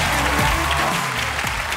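A studio audience at a Korean comedy show breaks into short, dense applause lasting under two seconds, with faint voices and other sounds mixed underneath.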